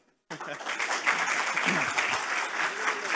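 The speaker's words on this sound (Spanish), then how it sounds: "aplauso para el presentador." An audience at an internet infrastructure conference claps for a presenter taking the stage; the applause starts abruptly after a brief silence and holds as steady, dense clapping throughout.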